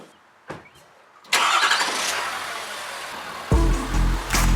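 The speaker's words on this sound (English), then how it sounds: "Let's just try to pull the truck in." A diesel truck engine cranks and then fires, close and loud, settling into a heavy, deep rumble that stays steady to the end. No one speaks.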